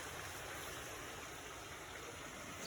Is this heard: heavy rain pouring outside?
yes